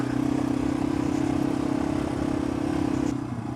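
A motorcycle cruises along a road with a steady, loud engine hum and wind buffeting close to the rider, easing off slightly near the end, with no talk.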